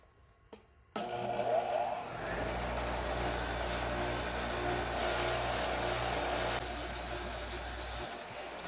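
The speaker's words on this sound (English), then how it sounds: "I'm going to take it over to the wire wheel and clean off all this corrosion" A bench wire wheel scrubs corrosion off the shank of a bolt from a Kia Sorento front end, spinning up with a sharp start and then running as a steady loud whir with a grinding hiss that continues for several seconds before easing off.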